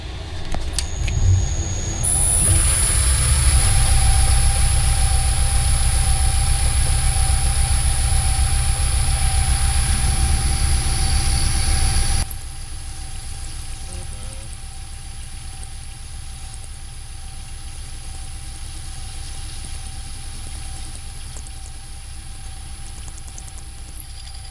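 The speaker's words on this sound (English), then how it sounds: "So I've now drilled a pilot hole, if you like, down the centre" A lathe drills a pilot hole down the centre of a piston for a hit-and-miss stationary engine build, a loud steady machine drone with a high whine that shifts midway and then holds for a long stretch.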